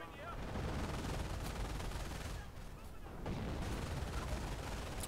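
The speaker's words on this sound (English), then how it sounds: "Artillery." Video game artillery fire rumbles as a dense, continuous barrage of booms and gunfire, loud and steady throughout, with a brief lull in the middle.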